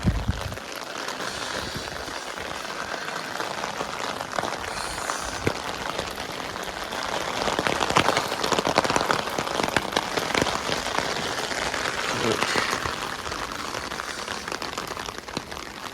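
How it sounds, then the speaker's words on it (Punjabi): Steady rain falls on a street among tall buildings in Italy, a dense, continuous hiss of drops on hard surfaces that grows slightly heavier midway, with no talk. "ਮੀਂਹ ਤਾਂ ਪੈ ਹੀ ਰਿਹਾ ਵਾ"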